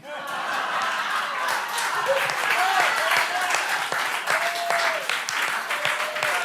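An audience claps loudly and continuously, mixed with chuckles and a few voices calling out.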